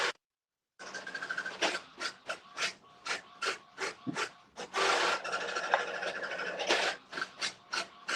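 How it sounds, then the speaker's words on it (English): Home printer printing: a loud mechanical whir and rasp with rhythmic pulsing strokes of the print head and paper feed, running continuously after a brief silence, close by and alone. "my printer is randomly printing something. That's gonna be real loud for a second"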